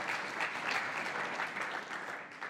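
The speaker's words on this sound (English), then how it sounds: "Can we get a clap for that, please?" An audience at a live talk night claps in a dense, steady round of applause, fairly close and even, with nothing spoken over it.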